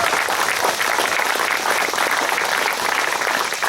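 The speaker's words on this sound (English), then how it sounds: "Can we get a round of applause for Mary and Bill" Audience applause at a Founders Day award gathering in Lansdale, steady dense clapping from a crowd sustained throughout, loud and continuous with no pauses.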